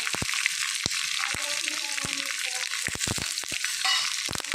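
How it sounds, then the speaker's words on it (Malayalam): Finely chopped shallots and dried red chillies fry in hot oil with a bright, continuous crackling sizzle, punctuated by sharp spatula taps and scrapes at irregular intervals. "കുറച്ച് ചെറിയുള്ളി ചെറുതായിട്ട് അരിഞ്ഞ് വെച്ചിട്ടുണ്ടായിരുന്നു, അത് ചേർത്ത് കൊടുക്കാം."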